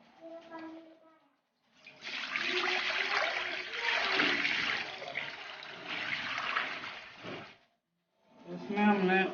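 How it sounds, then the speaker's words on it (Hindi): Water poured into a large open wok (kadhai) for boiling rice, a loud rushing splash lasting several seconds in surges, with brief talk before and after the pour. "इसमें हमने खुला पानी डाल देना है"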